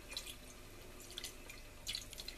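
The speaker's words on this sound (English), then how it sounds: "Pour the juices in then." Cooking juices are poured into a pan for pheasant gravy, giving faint, scattered drips and small trickling splashes in a few short clusters against a quiet background.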